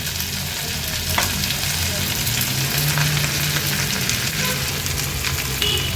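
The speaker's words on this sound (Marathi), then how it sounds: "शेंगदाणे छान तेलावर परतून झाले की ह्या बटाट्याच्या फोडी आहेत त्या ऍड करणार आहोत आपण।" Potato pieces sizzle and fry in hot oil alongside roasted peanuts, a steady, dense crackling hiss that stays constant throughout with faint scraping pops near the pan.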